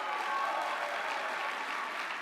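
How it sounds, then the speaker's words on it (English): An audience at a PAX East 2025 convention panel applauds the tech team, giving a brief, dense burst of clapping that stays steady throughout, with no voices over it. "let's get some applause for the tech team"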